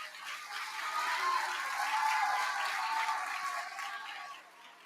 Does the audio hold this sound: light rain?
no